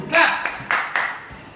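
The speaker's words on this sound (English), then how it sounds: "Stand up and clap your hands." A few hand claps, three or four sharp, close slaps spaced unevenly, with a small amount of background noise between them.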